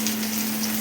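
Mete aloo (yam) frying in a pan, a steady close sizzle with a soft constant hiss and a low hum underneath, no talking.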